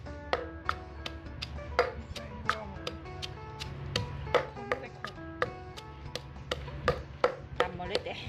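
Spicy shrimp salad with Vietnamese pork sausage being pounded in a mortar, a steady run of sharp wooden knocks roughly twice a second, close and clear over a low background hum.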